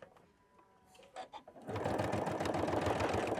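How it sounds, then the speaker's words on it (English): After a few soft clicks and handling noises, a Janome 9480 or Continental M8 sewing machine sews a straight stitch through doubled fabric, a loud, close, rapid rhythmic whirring chatter running steadily to the end. "I'm going to put the presser foot lifter down, and I'm going to sew."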